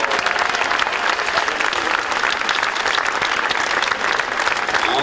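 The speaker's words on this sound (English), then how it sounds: "let's give him an even bigger round of applause" Big outdoor crowd at a Baseball Hall of Fame ceremony applauding Phil Rizzuto, a dense, steady wash of clapping and cheering that holds at full volume throughout.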